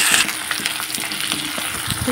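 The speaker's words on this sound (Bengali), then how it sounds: "সেগুলোর মধ্যে একটু পেঁয়াজ দিয়ে দিলাম" Chopped onion sizzles steadily in hot oil in a pan where fish heads were fried with dried red chillies, bay leaves and cumin, a continuous close crackle with small stirring bumps and no talking.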